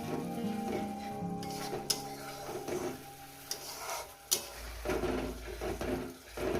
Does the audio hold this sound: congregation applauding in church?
no